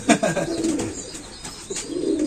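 Pigeons coo at close range in a series of soft, low, throaty calls, repeated several times with brief pauses and no talking over them.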